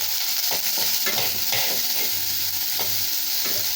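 Finely chopped onions sauté in hot oil for kara kozhukattai, a close, steady sizzle broken by several scraping stirs of a spoon against the pan, with no talking.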